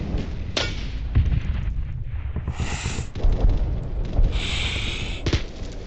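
Gunfire in the Roblox game Scorched Earth: a string of heavy booming shots and blasts, loud and close, some with a bright hissing burst, with no talk.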